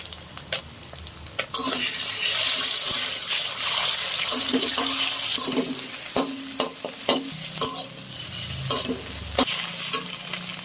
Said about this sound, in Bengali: এবার ডিম দুটো কড়াইতে দিয়ে দেব